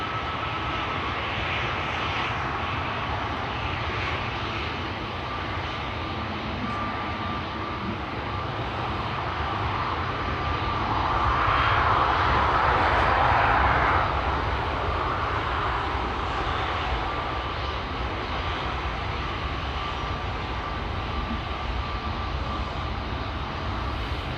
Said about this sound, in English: Seven 787-10 creeping up behind the Pegasus A321neo here in the foreground.